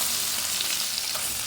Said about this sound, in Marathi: कढईमध्ये तेल गरम झालं की यामध्ये मोहरी घालायची, जिरे घालायचं, तयार केलेलं वाटण घालायचं आहे.